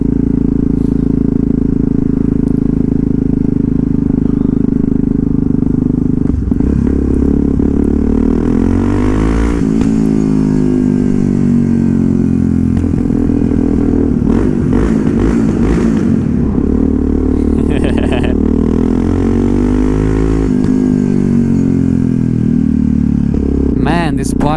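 A Yamaha MT-03 motorcycle engine drones loud and close with rising and falling revs and rough crackling bursts, a continuous heavy roar throughout with wind and handling noise over it.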